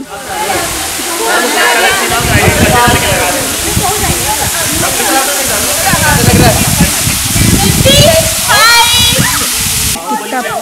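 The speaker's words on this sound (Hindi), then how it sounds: "जैसे कि आप देख रहे हैं बहुत ही ब्यूटीफुल झरना" Jibhi waterfall in Tirthan Valley, a tall cascade, roars with a loud, steady rush of falling water heard up close, while someone talks over it.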